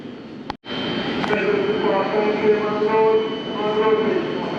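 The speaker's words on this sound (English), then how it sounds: "How long was that train on the platform?" A train sits at a platform in London Euston Station, giving a steady broad rumble with thin sustained whines and tones over it, close by and continuous after a brief dropout near the start, with voices in the background.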